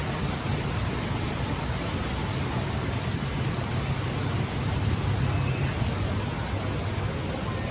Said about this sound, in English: And it rained harder.